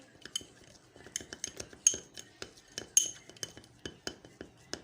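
Baking soda and lemon juice mixed in a bowl, with a spoon clinking and scraping against the bowl in quick, irregular strokes, close and fairly quiet.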